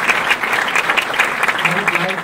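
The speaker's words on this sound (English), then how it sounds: "I would suggest to give Tom another round of applause" An audience at a planetary science congress applauds a speaker, a dense, even burst of clapping that fills the whole moment at steady loudness.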